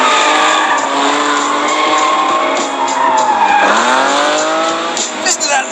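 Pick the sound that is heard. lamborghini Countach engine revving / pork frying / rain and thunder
lamborghini Countach engine revving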